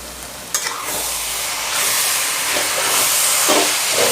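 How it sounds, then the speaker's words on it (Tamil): Water spinach poriyal with grated coconut is stirred in a hot pan, giving a loud, continuous sizzling hiss with scraping stirs and a few clattering knocks as the greens are mixed. "மிக்ஸ் பண்ணிக்கலாங்க."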